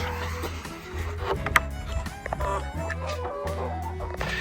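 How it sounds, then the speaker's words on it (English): Laying hens of mixed breeds on a Maine farm cluck and murmur in short bursts, with one sharper squawk, over a low background rumble; no one talks. "These are quite an assortment of laying hens that I have."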